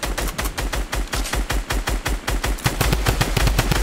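Rapid automatic gunfire in a video game, a loud steady stream of close, evenly spaced shots lasting nearly four seconds with a few heavier bursts toward the end.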